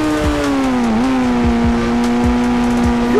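A white Toyota Fortuner in Indian Bike Simulator gives a loud, steady engine drone that dips briefly and then holds an even pitch. Soft rhythmic thumps repeat beneath the hum throughout.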